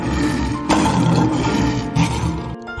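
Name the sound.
lion roaring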